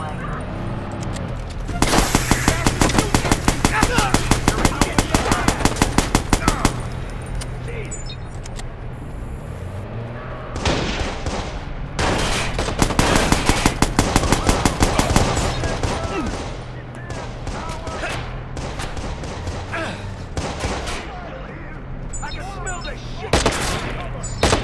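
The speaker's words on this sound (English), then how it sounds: "He's shooting at me!" Rapid automatic gunfire in the 2014 Watch Dogs video game, bursting in long loud volleys with brief pauses between them, with shouting voices and game sounds mixed in.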